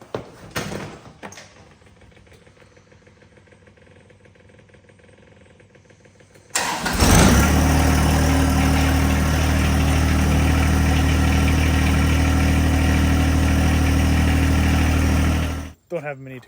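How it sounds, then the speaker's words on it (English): A few quiet clicks and handling noises, then a tractor engine fires up suddenly and loudly, running at a steady, rumbling idle close by until it cuts off. "time to fire the tractor up."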